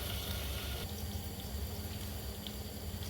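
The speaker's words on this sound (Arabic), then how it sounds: "هنشوح التومه مع بعض اهو" Minced garlic sizzles in oil in a pan, a soft, continuous crackling hiss heard close and fairly quiet throughout.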